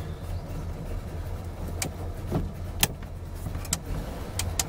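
A Wartburg car eases off as the clutch is let out. There is a low, quiet engine rumble with a few sharp mechanical clicks and knocks.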